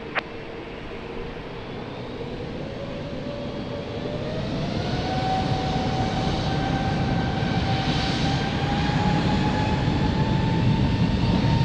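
Airliner taking off from runway 02 at Lisbon Airport: a steady, broad jet roar that swells gradually over the clip, with a rising engine whine, heard from a distance and alone.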